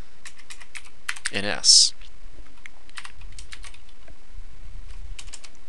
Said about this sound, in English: Now I'm going to type in the opening HTML tag.